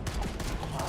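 Rapid gunfire in the video game Halo Campaign Evolved, a short, continuous burst of overlapping shots and blasts heard fairly quietly for about a second.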